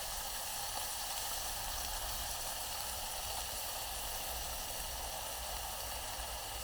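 Burger meat sizzling softly in a pot over very low heat on a Campingmoon XD-3F regulator camp stove, a steady even hiss throughout with no voices.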